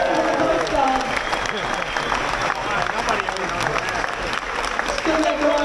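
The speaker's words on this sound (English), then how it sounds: "Give the Coast Guard a round of applause" An audience applauds a Coast Guard member at a hero salute event at Islander Margaritaville, a sustained wash of clapping and crowd noise mixed with loud talking over the top.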